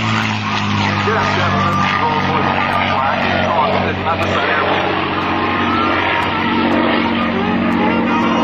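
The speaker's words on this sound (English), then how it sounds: "Here's the beautiful P-51 Mustang." A P-51C Mustang propeller plane drones loudly and steadily overhead at an airshow, a continuous deep engine roar with little change throughout.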